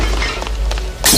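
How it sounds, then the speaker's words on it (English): Car window glass shattering as a woman skids into the car and smashes it with her elbow on wet ground in Blade Runner; one sharp, bright crash comes after a second of muffled background, with a short voice underneath. "she skids into a car, smashing the window with her elbow"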